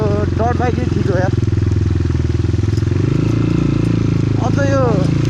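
A Cross X 250 SE dirt bike runs on a rainy-season road in Kathmandu, its engine a steady, close, throbbing drone throughout, with brief voices or chirps rising above it.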